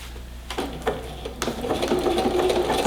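A sewing machine stitching the end of a buttonhole on a drawstring elastic waistband, starting with a few slow clicks then settling into a fast, steady mechanical whir of rapid stitches, close up and alone.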